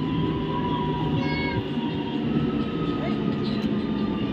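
A Howrah-Midnapore local train pulls into Nandaigajan station with a continuous low rumble. Faint high squeals and tones rise over the rolling noise from close by.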